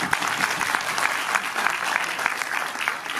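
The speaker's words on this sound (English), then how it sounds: "Please applaud them." An audience at the music launch of the Marathi film Hrudayantar claps in a steady, dense burst of applause that holds at an even level throughout.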